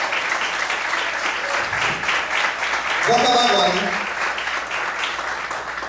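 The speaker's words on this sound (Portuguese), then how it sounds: "Você pode aplaudir e exaltar o nome de Deus. Mais forte as palmas" A church congregation applauds during a sermon, sustained clapping filling the room while a preacher keeps talking over it, with a brief musical swell in the middle.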